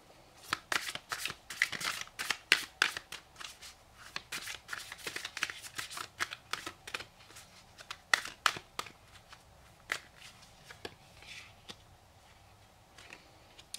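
A deck of oracle cards shuffled by hand: quick crisp riffling flicks and card slaps in irregular bursts, close and fairly quiet, going on for over ten seconds with no talk.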